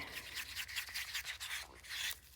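White resin gets stirred in a cup with soft, quiet rubbing and scraping strokes repeating in a steady back-and-forth rhythm, close and alone.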